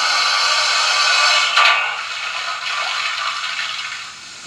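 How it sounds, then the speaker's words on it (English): Model Q6 locomotive running on a railway layout, heard as a steady mechanical rattle and scraping whir that holds throughout at moderate distance, easing slightly toward the end. "That is the Q6 making itself heard over there."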